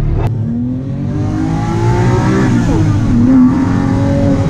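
A Ferrari 458 Spider engine revs hard, heard from inside the car, the pitch climbing steadily and loudly with a single brief click at the start and no talk.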